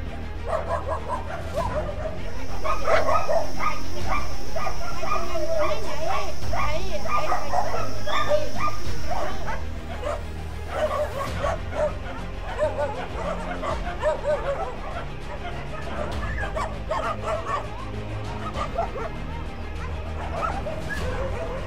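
Many dogs at a street-dog shelter caring for about 300 rescued animals bark, yip and whimper continuously, close and loud, with people talking among them.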